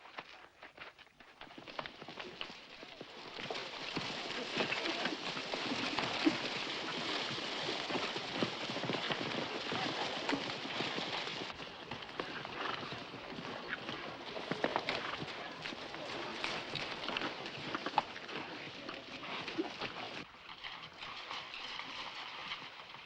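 Steady clip-clop of several horses' hooves at a brisk pace in a 1957 Western, a continuous dense drumming at moderate distance with rustling, and a brief drop in intensity near the end.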